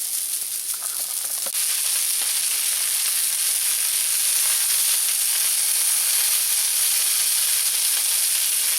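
Sausage sizzling in a pan, a continuous bright hiss and crackle that holds steady and fairly loud for nearly nine seconds with no talking.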